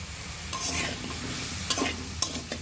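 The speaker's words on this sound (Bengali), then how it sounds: "1 চিমটি পরিমাণ মতো হলুদ গুঁড়ো দিয়ে একটু ভেজে নিতে হবে।" Salt, chili powder and turmeric fry in oil for a prawn and spring onion dish, a soft sizzle broken by a few sharp stirring scrapes against the pan.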